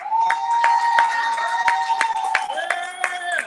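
Audience applause at a commencement ceremony, a steady patter of clapping hands with a few louder sharp claps, close and continuous throughout.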